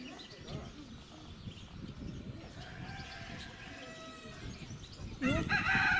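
Caged chickens on a farm cluck softly at a distance under steady outdoor background noise, with people talking nearby and a louder fowl call near the end.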